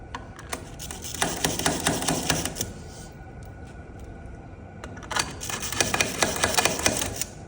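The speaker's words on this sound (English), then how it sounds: "our Yankee driver is not the best. It's good at getting them going" A Yankee spiral ratchet screwdriver drives small engine bolts during a timed assembly, giving two bursts of rapid, close, ratcheting clicks separated by a quieter pause.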